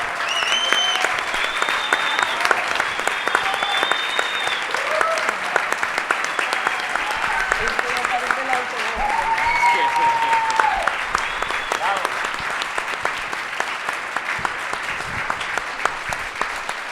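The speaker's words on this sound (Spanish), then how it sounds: "dedicarles el aplauso que se merecen" Sustained audience applause for artists Jose Dávila, Gonzalo Lebrija and Jorge Méndez Blake at a talk, a steady dense patter of many hands filling the room, with some faint voices mixed in.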